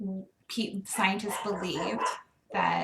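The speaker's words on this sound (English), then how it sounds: "sorry about my dogs" Dogs barking in short bursts around a voice that keeps talking over them, the barks close and fairly loud, coming in several clusters with brief gaps of quiet.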